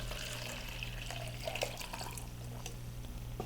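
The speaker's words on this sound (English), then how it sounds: "Show you that the cup is actually really leaking." Water trickles and drips steadily from a cracked cup, heard faintly and up close over a low background hum.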